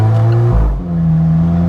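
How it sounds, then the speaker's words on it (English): An Alfa Romeo 4C Spider exhaust roars loud and close as the car accelerates, with a brief dip at a gear change before the engine note settles back into a strong, steady drone. "Wow, nice exhaust sound."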